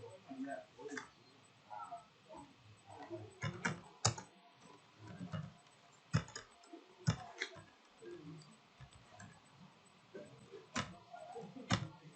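Typing on a computer keyboard during a Node.js coding session, scattered key clicks and sharper keystrokes spread over several seconds, mixed in with intermittent talking.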